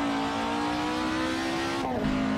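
A race car engine revs hard at high rpm while exiting a corner, a steady loud drone that drops sharply near the end as the driver lifts off for a clutchless upshift, close and alone.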